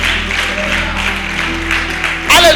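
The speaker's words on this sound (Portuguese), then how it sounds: "Aplaude mais forte para esse Deus." A church congregation applauds during a Portuguese-language sermon, a steady broad wash of clapping that holds loud throughout, mixed with voices and faint music.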